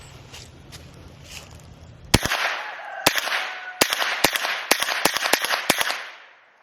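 Eight-shot firework cake, set into a launcher, firing a rapid string of loud, sharp cracking reports, about nine in all, spread over several seconds after a quieter stretch of low rumbling background noise.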